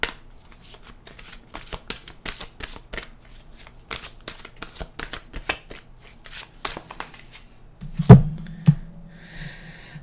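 An oracle card deck riffled in steady, rapid shuffling strokes, crisp and close, continuing for about eight seconds, then a brief thump and a soft tonal sound at the end.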